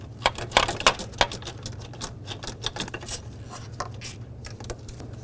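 A tool works a 7mm screw holding the ignition coil on a 1997-2003 Ford F-150, giving quick, irregular, close metallic clicks and ticks over a faint low hum.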